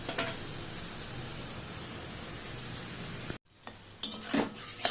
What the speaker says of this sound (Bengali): কম আঁচ করে প্রথমে নাড়বো।